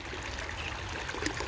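Fresh, cool stream water flows steadily over stones, rocks and sand, a close, continuous trickling rush with no talking.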